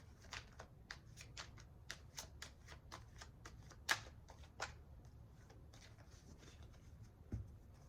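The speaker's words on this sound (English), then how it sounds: "Get another card here, please, for Virgo." Tarot cards are shuffled and drawn in soft, rapid riffles and flicks with a few sharper snaps, close and quiet, with no talking.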